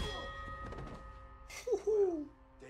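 A bell struck as a blow in a scene from The Walking Dead, ringing out as a loud sustained metallic tone after a sharp hit, following a stretch of quieter background sound.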